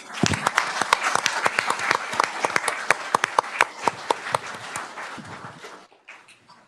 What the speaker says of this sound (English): So I'd like to clap for all of you.